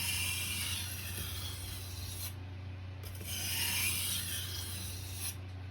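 A knife blade rasps steadily back and forth across a whetstone at close range, the scraping strokes running continuously with brief lighter pauses and no talking.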